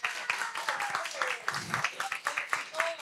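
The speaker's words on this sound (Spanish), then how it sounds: "Quiero que recibamos con un fuerte aplauso el día de hoy en el restaurante a Robert Grill." An audience in a restaurant set on a celebrity cooking show claps to welcome a guest, scattered hand claps mixed with a host's voice speaking over them, moderately loud and uneven.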